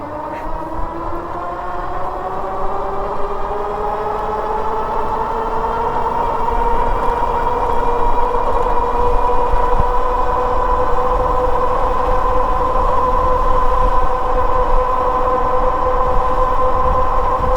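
Electric hub motor of a Magicycle Cruiser Pro fat tire ebike under full twist throttle from a standstill, a rising tonal whine that climbs in pitch over several seconds and then holds steady, with faint road and wind noise beneath.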